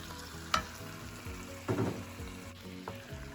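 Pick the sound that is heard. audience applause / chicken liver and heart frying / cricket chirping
chicken liver and heart frying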